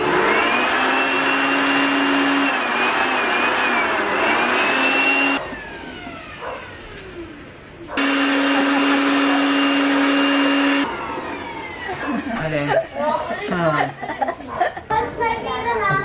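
An air blower blasting dust out of a PC, a loud steady whoosh that cuts off, starts again, then gives way to clattering and people talking.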